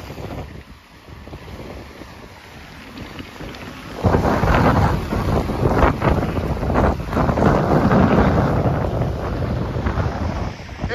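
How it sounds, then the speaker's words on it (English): Strong wind buffets the microphone outdoors in St Petersburg, Russia, with a low, rumbling roar that grows louder partway through and stays heavy and gusty. "It's windy today"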